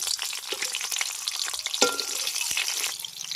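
Oil sizzles and crackles steadily as panch phoron, bay leaves and green chillies fry in a pan, with a few sharper pops and occasional stirring scrapes.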